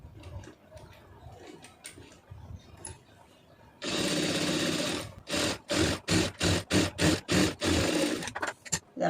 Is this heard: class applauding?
no